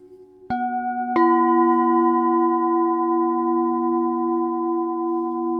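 Two antique singing bowls from a matched pair struck one after the other, each giving a clear bright ringing tone that sustains and blends with the other, close and alone with no talking.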